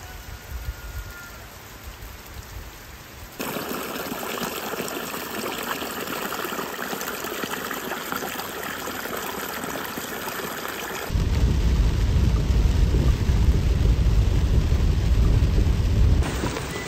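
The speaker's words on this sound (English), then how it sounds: "That rain is coming down hard." Heavy rain pours down in a steady roar that swells louder partway through, with low rumbling underneath; no voices.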